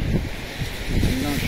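Wind gusts buffet the microphone beside the swollen Ifrane river after thunderstorms, a loud continuous rushing roar up close, with someone speaking over it.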